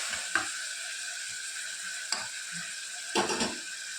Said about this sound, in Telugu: పచ్చివాసన పోయేంత వరకు పుదీనా, కొత్తిమీర, తర్వాత టమాటా పండుని వేయించుకోవాలి